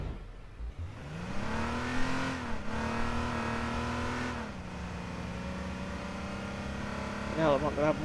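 A car engine drones and revs in the H1Z1 battle royale game, rising in pitch then holding a steady tone before a brief shift and a sustained run, with a rattling burst near the end and no speech.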